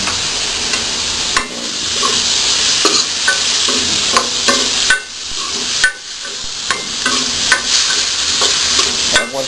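Soaked rice is stir-fried in a pan for khichuri, giving a loud constant sizzling hiss broken by repeated scraping spatula strokes and metallic taps, with no talk.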